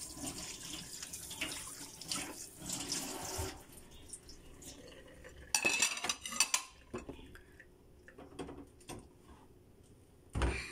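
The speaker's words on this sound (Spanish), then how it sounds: "Voy a tallar aquí mi pocillo donde hice mi chocolate. Y voy a estar tallándolo con la fibra." Water runs from a kitchen tap into a sink while a mug used for hot chocolate is scrubbed with a dish sponge, with clinks of crockery and a sharper knock near the end, all without talk.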